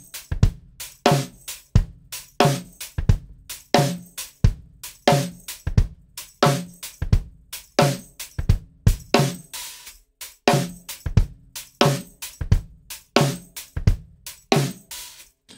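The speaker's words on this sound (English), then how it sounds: "when you play both snare drums with a little flam, it sounds like this" Big snare drum and high-pitched snare drum on a drum set, struck together with a flam in a repeating hip hop beat, crisp sharp hits interleaved with a kick drum in a steady rhythm, played alone without talk.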